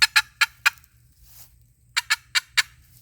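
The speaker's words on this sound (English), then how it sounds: "A cut is a cluck with some rasp at the back end of it." A handheld turkey call plays cuts: eight sharp, raspy clucks, close and loud, in two quick bursts of four separated by a brief pause with a faint breathy sound.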